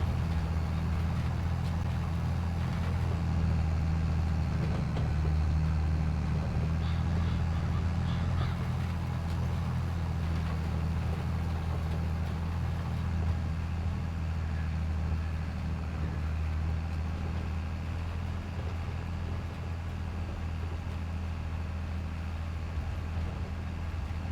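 Tractor engine running in the farming game Farming Simulator 22, a steady low droning hum with constant rumble, loud and continuous throughout while someone talks over it.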